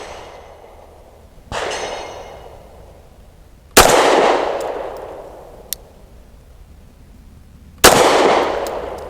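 A Springfield Armory Prodigy pistol fires three loud, sharp shots spaced a couple of seconds apart, each followed by a long echoing decay outdoors, with a faint click between two of them.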